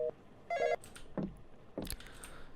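A telephone rings in a Korean horror video game about keeping an intruder out of a room: two short electronic ring bursts separated by pauses, with a few dull knocks and clicks in between, fairly quiet with no talking.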